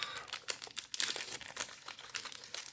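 Pokémon XY booster pack foil wrappers crinkled and torn open up close, a busy run of crisp rustling and crackling bursts, fairly quiet, with no one speaking.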